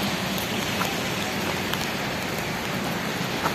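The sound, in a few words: rain falling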